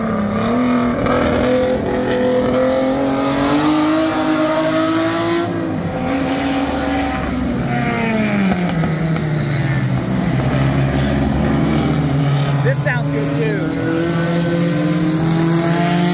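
Vintage sports cars with engines under 2.0 litres race at a vintage grand prix in Pittsburgh, a loud continuous engine drone rising and falling in pitch as cars pass nearby, with a brief squeal near the end.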